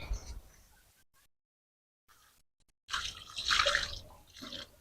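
Water poured from a can onto the soil of a potted guava tree on a rooftop garden: a short faint trickle, then silence, then a louder splashing pour near the end.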